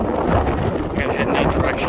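Strong wind buffets the microphone outdoors on a long-distance hiking trail, a loud, close, continuous rumbling roar with gusty swells.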